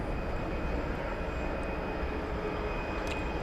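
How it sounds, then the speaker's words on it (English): A Boeing 777-300ER taxis toward the hangar area at DFW Airport, its engines giving a steady, broad roar with no breaks. "777-300ER, which is making its way now to the hangar area"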